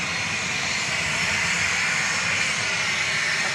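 A Boeing 737 MAX 8 jet arrives at Dallas Love Field at night from Oakland, California, its engine roar a steady broadband hiss and rumble, close and sustained, with no voices.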